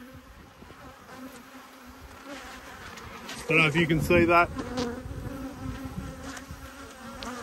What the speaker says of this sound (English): lots of bees around me.